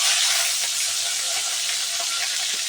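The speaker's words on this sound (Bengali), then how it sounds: "তো মাছগুলি আমি ভাজতে থাকি" Fish frying in hot oil in a pan, a steady, close sizzle and hiss that crackles on without a break from start to finish.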